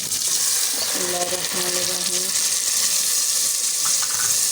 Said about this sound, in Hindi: इसके अंदर हमारा वो अदरक लहसुन फ्राई हो चुका है। इसके अंदर हम प्याज डालेंगे और सारे मसाले डालेंगे।